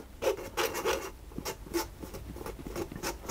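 A whisk stirs chocolate cake batter in a bowl with soft, rhythmic scraping and tapping strokes, quiet and close, with no talking.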